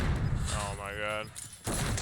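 Gunfire in a first-person shooter match on the Caldera map: dense bursts of shots open and close the moment, with a voice briefly between them.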